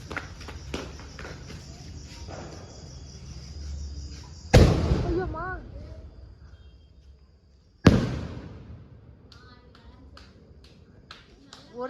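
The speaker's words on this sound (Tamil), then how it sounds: "தம்பி வீட்டில் பட்டாசு வெடிச்சிட்டு இருக்கிறாங்க." Firecrackers going off at a home during a Karthigai Deepam festival celebration, with two loud sharp bursts whose crackling tails fade out, amid smaller pops and voices in the background.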